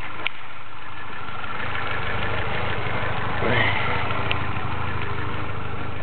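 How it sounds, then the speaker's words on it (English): A BMW 318i with the M10 four-cylinder engine idles steadily in good running condition, a continuous mid-pitched hum with a slight rough pulse and a brief swell near the middle, heard alone without talk. "Motor running, it's a good running condition."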